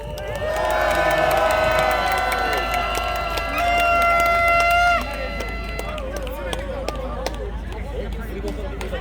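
Audience applause and cheering at an outdoor candlelight rally, a loud crowd roar with singing or musical tones through the first half, then fading to scattered clapping and chatter.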